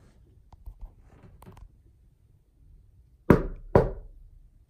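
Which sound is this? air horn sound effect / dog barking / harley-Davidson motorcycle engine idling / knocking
knocking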